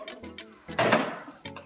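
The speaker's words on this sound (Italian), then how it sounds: "andiamo ad aggiungere la sua acqua fino a coprirlo" Water is poured into a pan of lightly browned Jerusalem artichoke, making a close rushing splash and sizzle that lasts about two-thirds of a second amid quieter kitchen clatter.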